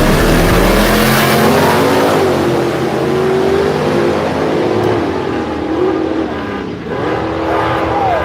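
A race car engine revs hard and accelerates with turbo boost on a hood track, loud and close throughout, with rising and falling pitch sweeps as the throttle is worked.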